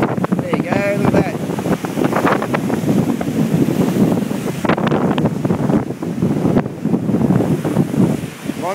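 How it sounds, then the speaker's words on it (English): Storm surge waves from a monsoonal squall roll up a boat ramp while strong wind buffets the microphone. The rumbling, crashing water is loud and close throughout, and a voice is heard briefly over it. "Water surging right up."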